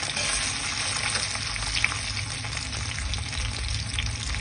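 Bay leaf, cumin, cashews and raisins frying in hot oil for fish-head dal, a steady loud sizzle with crackling pops throughout.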